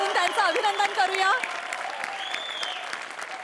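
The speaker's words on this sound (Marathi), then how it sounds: "एकदा जोरदार टाळ्या वाजवून त्यांचं अभिनंदन करूया." A crowd bursts into loud applause congratulating actor Prasad Oak on his 100th film, steady clapping throughout while a voice speaks over the first part.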